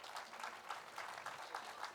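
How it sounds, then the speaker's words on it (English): Applause from a large audience at a fireside chat on leading with compassion, welcoming Nayana Motamma: dense, steady clapping that holds evenly for the whole stretch with no voices over it. "I want us all to give a big round of applause to Nayana Motamma."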